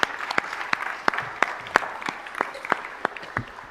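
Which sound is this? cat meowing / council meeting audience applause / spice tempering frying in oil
council meeting audience applause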